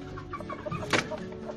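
A backyard rooster on a home with chickens and racing pigeons gives a short run of soft, close clucks, fairly quiet and brief.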